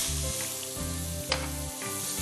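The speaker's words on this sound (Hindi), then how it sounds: "हल्का सा प्याज हो जाएगा, फिर लहसुन जाएगा इसमें।" Onions sizzle steadily in hot oil in a pan, a close, even frying hiss with a faint stir or clink partway through and a low hum underneath.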